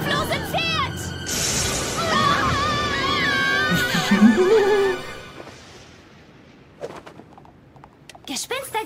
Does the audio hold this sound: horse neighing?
yes